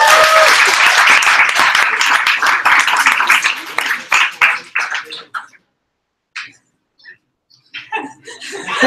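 Applause for a reader at a literary salon: a dense, loud burst of clapping with some chuckles that thins into scattered claps and fades to near silence, then a brief patter returns.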